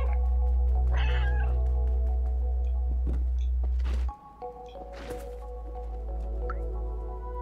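A cat in the video game Stray meows a few times amid dripping and squishy game sounds, with a low background hum that drops away midway.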